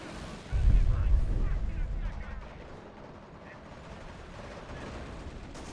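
Gunfire fired into an enemy base in a video game, opening with one heavy, booming shot that rumbles out and fades into a faint, busy battlefield background.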